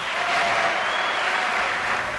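A crowd at a political campaign speech breaks into sustained applause, a thick, even wash of clapping that stays loud and steady for about two seconds.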